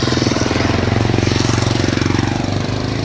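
A motorcycle engine runs steadily and loudly at close range as it crosses a hanging bridge, with a constant rumbling chug and no pauses.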